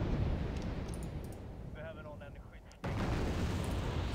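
Rumbling mortar barrages in Wargame Red Dragon, a loud, continuous booming roar of distant impacts that dips briefly and then surges back, with faint chirping game tones in the middle.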